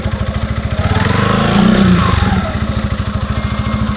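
A motorcycle engine runs close by with a fast, even, throbbing idle, swelling briefly into a slightly stronger rev partway through before settling back to its steady chug.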